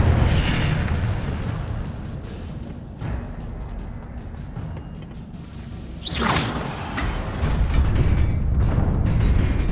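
An Incendio fire spell is cast in the Hogwarts Legacy video game, with a loud rumbling, fiery burst and whoosh over continuous game noise, swelling again near the end.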